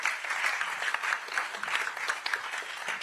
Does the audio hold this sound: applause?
yes